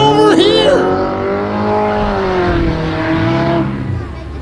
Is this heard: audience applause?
no